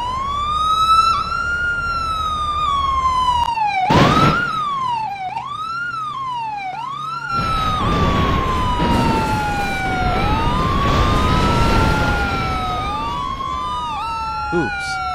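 A police car siren wails loudly in repeated rising and falling sweeps, broken by a couple of short bursts of noise partway through.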